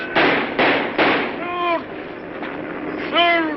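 Gunshots in an old film: three sharp bursts in quick succession, followed by shouting voices, then another blast, all with a dry, band-limited vintage soundtrack quality.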